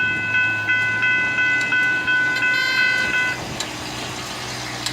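The tail end of a long FEC freight train rolls past close by, its wheels clacking in a steady rhythm over rumbling cars while faint tonal squeals ring out, then the noise drops off as the last car clears.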